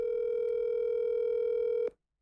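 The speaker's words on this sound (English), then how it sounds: "It's ringing." A telephone call signal on a phone line sounds as one steady, continuous electronic tone, fairly quiet and close, then cuts off abruptly near the end.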